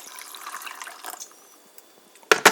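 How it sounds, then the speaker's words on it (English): Warm water is poured into a coffee mug holding a chicory coffee mix, a soft trickling splash that thins out and then ends in two louder bursts of splashing. "you pour in a little bit of water"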